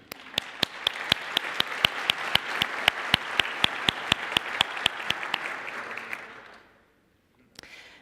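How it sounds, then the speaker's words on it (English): Applause rises from an audience at a conference, with a few louder, sharp claps standing out over the crowd. It tapers off after about six seconds into near silence, followed by a brief sound. "Big round of applause, please."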